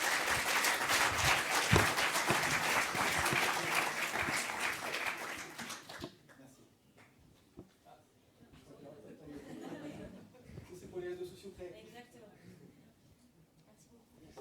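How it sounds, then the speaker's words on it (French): An audience at an entrepreneurs' event applauds loudly for about six seconds, a dense close clatter of many hands, then the clapping fades into quieter room murmur and scattered talk. "On va faire on vous applaudit."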